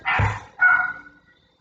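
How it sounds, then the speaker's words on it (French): A neighbour's small dog yaps in two short, close barks, a clear gap between them and the second fading out into quiet. "ça c'est le petit chien de la voisine"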